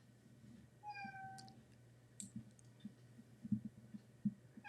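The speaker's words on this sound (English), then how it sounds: "you can hear my cat" A house cat meows several times indoors, the rising-falling cries faint and moderately near, while soft clicks and low background hum run beneath.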